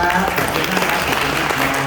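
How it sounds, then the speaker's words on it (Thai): An audience applauds at a talk or seminar, with continuous clapping heard together with voices. "ขอให้พวกเราทุกท่านปรบมือส่งพลัง"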